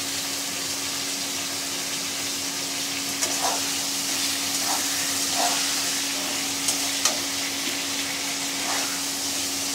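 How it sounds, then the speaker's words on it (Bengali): Eggplant frying in hot oil in a pan on a gas stove, a steady close sizzle throughout with a few soft clicks of stirring, no voices. "এখানেই আমি বেগুনটা ভাজছি"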